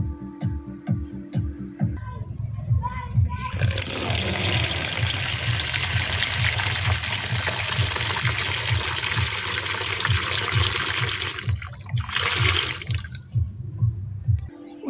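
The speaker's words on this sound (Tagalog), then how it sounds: "Siguro dagdagan pa natin ng tubig, ano?" A steady rushing pour of water, loud and close, lasting several seconds before trailing off into splashes, over a low rhythmic thumping.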